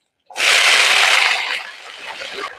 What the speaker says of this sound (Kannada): ಇವಾಗ ಇದಕ್ಕೆ ಬಟಾಣಿ ಕಾಳನ್ನು ಹಾಕ್ತಾ ಇದ್ದೇನೆ.